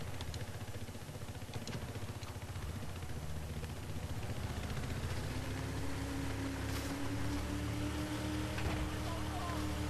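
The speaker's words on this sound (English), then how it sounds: "You're taking your red boat." A motorboat engine in Battlefield 4 drones steadily throughout, a low idling hum with a rising whine partway through, alongside faint background noise and no clear talk.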